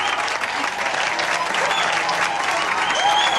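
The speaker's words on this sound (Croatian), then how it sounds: "Poslušajte sve te uzvike i taj pljesak." A live audience cheering and applauding after a music show performance, dense continuous clapping with shouts mixed in, loud and sustained throughout.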